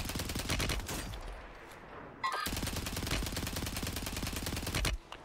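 Rapid automatic fire from a blue thermal-scoped STG assault rifle in the online shooter Warzone, sustained bursts filling nearly the whole stretch with one short pause in the middle, loud and close.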